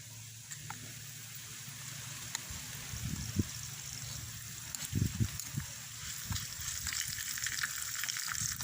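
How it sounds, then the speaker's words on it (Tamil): Onions sautéing in hot oil for a jilebi fish curry make a steady, quiet sizzle close by, with a few louder clattering stirs of a utensil in the pan partway through. "வெங்காயம் நல்லா வதங்கட்டும்"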